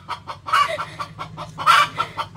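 A brooding hen on a farm gives a rapid series of close, fairly loud clucks in uneven bursts.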